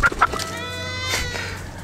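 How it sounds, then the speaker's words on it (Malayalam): A goat on a mixed livestock farm lets out a single loud, wavering bleat close by, preceded by a couple of short clucks from free-range hens. "അതുപോലെ തന്നെ കുറച്ചധികം ആടുകളൊക്കെ ഉണ്ട്."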